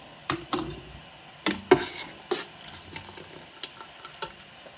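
Venison stew vegetables stirred and shifted in a pot of boiling liquid, scattered clacks and scrapes of a utensil against the pot over a quiet bubbling background.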